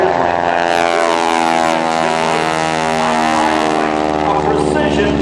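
Propeller airplane flying an aerobatic four-point hesitation roll at a Mustangs airshow, its engine drone loud and continuous with shifting harmonic tones as the plane pauses through each quarter turn.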